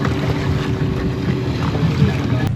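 Boat travelling at sea off Zanzibar, a loud steady motor rumble mixed with buffeting wind noise and rushing water, continuous and close with no talk.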